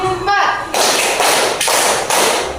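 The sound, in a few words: class doing a counted concentration clapping routine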